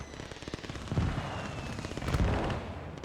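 Machine gun fire in the WWII strategy game Gates of Hell: Ostfront during a 1v1 match, with rapid bursts and booming impacts swelling twice amid a dense, rumbling battle din at low level.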